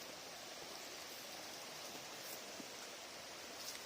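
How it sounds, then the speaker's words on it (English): A small waterfall in the Luddenden Dean valley of West Yorkshire, with only a little water coming down, gives a steady, faint, even rush of falling water, with no voices over it. "There's a little waterfall over there."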